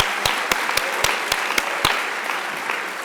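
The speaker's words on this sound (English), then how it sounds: "yes, clap to that" An audience at the Governor's Summit on Disabilities applauds, a steady wash of clapping with a few sharp, regularly spaced claps standing out near the front before it thins and fades.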